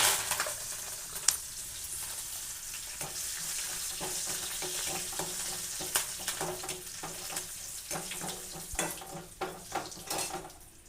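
Curry leaves crackle and sizzle in hot oil, a steady frying hiss broken by sharp irregular pops and spatters, close and continuous without talk.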